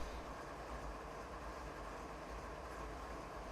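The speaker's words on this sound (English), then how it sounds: "It's a freight train." Freight train rolling steadily in Train Sim World 2019 on a Canadian mountain pass, a constant low rumble and hiss holding at even loudness with no voices.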